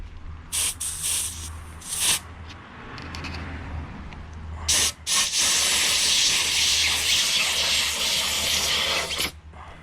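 Compressed air blasts in loud, sustained hissing bursts to loosen a handlebar grip on an Ariel Rider Rideal electric bike, several short puffs then one long continuous jet, close by with no talk.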